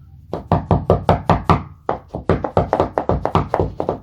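Rapid series of knuckle taps on a floor beside a relative moisture sensor, about twenty close, loud knocks in an uneven rhythm with a brief pause midway, no talking.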